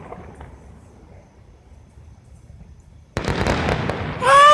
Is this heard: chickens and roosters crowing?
no